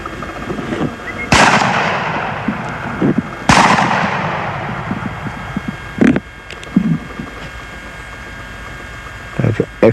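Two loud shotgun blasts ring out while hunting crows in Georgia, each with a long echoing decay across open country, followed by faint crow calls and quieter background sounds.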